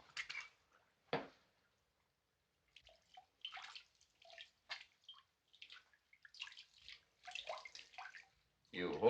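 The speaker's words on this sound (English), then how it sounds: "Pour some of that on my hands." Rum poured over a person's hands in an old 1937 film scene, heard as faint intermittent splashing and dripping liquid, with quiet gaps between the pours.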